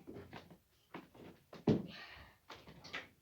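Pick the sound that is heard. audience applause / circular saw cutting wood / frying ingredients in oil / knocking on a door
knocking on a door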